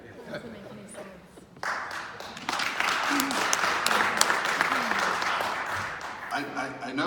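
Audience applause at a West Orange town council meeting in a middle school hall, a crowd bursting into sustained clapping mixed with chatter and scattered voices, following quieter murmuring.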